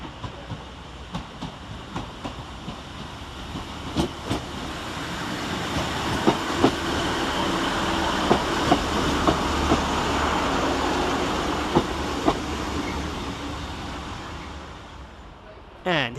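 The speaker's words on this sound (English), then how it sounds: "Arriving out of the tunnel is 150-128, running 9 minutes late with the 1436 Northern service from Colne to Preston." A Northern class 150 diesel unit, 150-128, emerges from a tunnel and arrives at Blackburn station on a Colne to Preston service: a rising engine rumble with rhythmic clickety-clack wheel beats over rail joints, building then easing as it slows.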